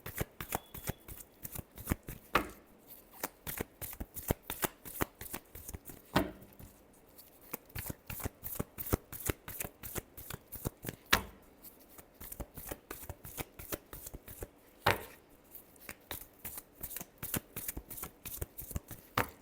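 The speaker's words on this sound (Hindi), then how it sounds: "last shuffle" Tarot cards shuffled by hand, a long run of close, crisp riffling flutters and slaps in a fast steady rhythm, with a few sharper louder snaps every few seconds and no talking.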